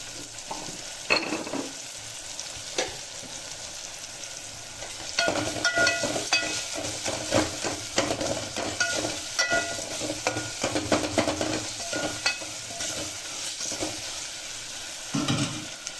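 Steady sizzling of tomatoes sautéing in a frying pan, with occasional stirring scrapes and clinks, close up and moderately loud, no talking.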